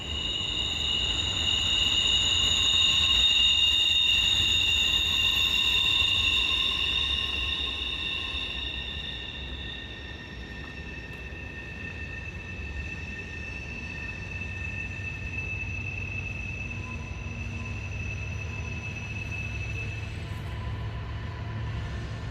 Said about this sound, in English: Yeah, there's an intermodal. And then the mixed freight's behind him.